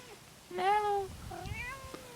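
A cat gives a couple of clear, drawn-out meows close by, the first louder and longer, the second softer, with faint background noise between.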